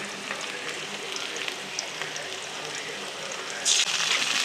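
Onions and ginger-garlic paste frying in a pan for chicken, a steady close hiss of sizzling oil throughout with a brief louder burst of spatter near the end.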